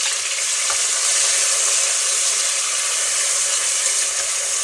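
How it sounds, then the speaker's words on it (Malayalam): Tomatoes sizzle and fry in a pan while being stirred for prawn biryani, a loud, steady hiss of hot oil with occasional scraping, close and continuous with no talking. "അപ്പോൾ നമുക്ക് നമ്മുടെ രണ്ടാമത്തെ ഇൻഗ്രീഡിയൻസ് തക്കാളി ചേർത്ത് കൊടുക്കാം."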